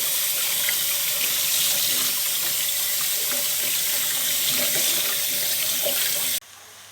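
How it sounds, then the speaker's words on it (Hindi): Cold water pours from a tap over boiled pasta, a loud, steady rushing splash that runs continuously for several seconds before cutting off abruptly, with no talking. "पास्ता के ऊपर हमने ठंडा पानी डाल दिया था"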